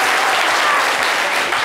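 Audience applause for a mother introduced as a guest at a live show, a dense, steady wash of clapping from a crowd, loud and continuous throughout with no voices on top.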